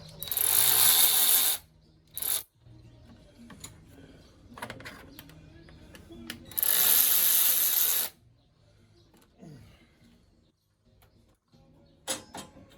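A ratchet loosens bolts on the fuel injectors of a 1990 Ford F150 with the 4.9L 300 inline-six. Two long, loud bursts of rapid clicking come close up, with a few shorter clicks and small metallic handling noises in between.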